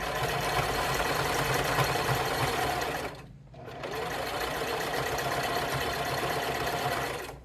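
A sewing machine running at a fast, steady clip while box stitching, a loud close mechanical whir that stops briefly and then starts up again.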